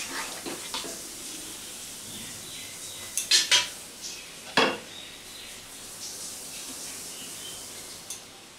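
Aloo soyabean curry is stirred in a pot after garam masala powder goes in: scattered metal spoon clinks and scrapes, a few sharper knocks against the pot, over a faint steady sizzle with no talking.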